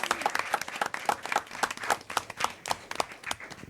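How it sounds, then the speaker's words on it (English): Audience at a county social services board meeting applauding graduates, a steady round of hand clapping filling the room with dense, uneven claps throughout. "Can we give one more round of applause for all of our graduates?"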